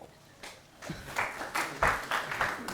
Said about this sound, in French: Applaudissez pour la Guinée.